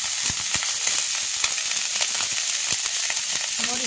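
Spices frying in a pan for a fish chachchari with salt, turmeric and ground spice paste, a steady close sizzle with scattered crackles and pops throughout.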